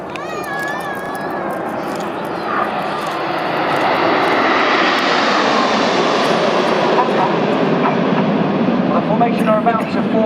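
Red Arrows jets roar through a formation display with smoke at the Sunderland Airshow, a broad, rising jet rumble that swells and stays loud for about ten seconds, with a commentator speaking over it at the start.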